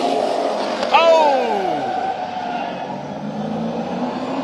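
Race cars roar past in a trophy dash at Orange Show Speedway, a loud engine sweep dropping in pitch as a car passes close, then steady engine drone from the pack with an announcer talking over it.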